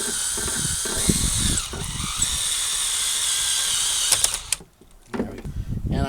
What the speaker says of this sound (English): I'm going to cheat on this one and use the drill.